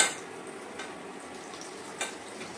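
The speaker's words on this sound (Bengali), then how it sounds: "দুইটা করে পুরি ভাজছি শর্টকাট" Puris deep-frying in hot oil two at a time, a soft steady hiss and bubbling with a couple of faint clinks, close and quiet with no talk.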